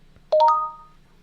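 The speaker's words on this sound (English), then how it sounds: "Tyler continues to receive more and more of the same eerie notification" A phone notification chime rings out once, a short bright multi-tone ping that rises sharply and fades over about half a second, clear and alone over a faint low hum.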